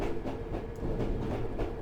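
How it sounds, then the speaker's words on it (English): London Underground D78 Stock train passing in Train Simulator 2018, a steady low rumbling roar with faint rhythmic clatter of wheels over rail joints, continuous and fairly close throughout. "when the back of the train kind of passes by"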